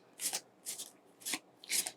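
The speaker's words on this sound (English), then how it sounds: "I'm just going to give the deck this little shuffle here." A tarot card deck being shuffled by hand, four quick riffling bursts of card flutter with short pauses between them, close and fairly quiet, with no talking.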